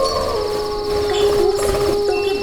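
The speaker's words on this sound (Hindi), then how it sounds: "कहीं दूर से कुत्तों के भौंकने की आवाजें आ रही थी" Dogs howl far off at about 2 a.m. outside a silent factory at night, a long steady wail held throughout with faint whimpering, no barking clearly picked out.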